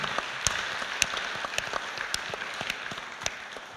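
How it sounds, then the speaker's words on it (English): Scattered applause from a small audience at a university event marking forty years of the Wallatook Institute, with distinct individual claps standing out over a thin, steady patter. "I think that deserves a round of applause."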